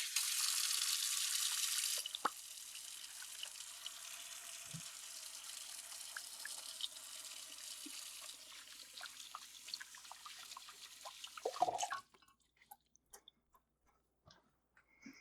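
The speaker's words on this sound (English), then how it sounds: "I'm just gonna wash my hands." A kitchen sink tap runs while hands are washed beneath it, a steady splashing stream with small clinks that stops abruptly, leaving faint drips and quiet.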